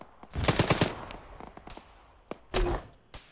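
Bursts of gunfire from friendly troops firing from behind during a military engagement: a rapid cluster of close, loud shots early on, then scattered single reports and a heavier burst later.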